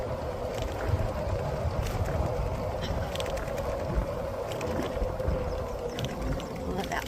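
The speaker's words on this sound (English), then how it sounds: "It's a metal bridge. Listen to the sound." Bicycle rolling across a metal bridge over wetland, giving a continuous rattling, clanking rumble from the deck, close and steady, with birds faint in the background.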